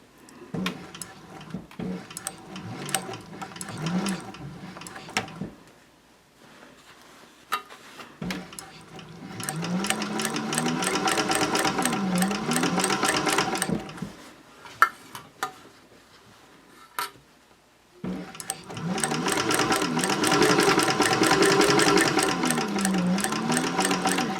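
A domestic sewing machine stitches a seam at a medium stitch length, its rapid mechanical chatter coming in bursts with pauses between and a sharp knock near the middle, close by and fairly loud.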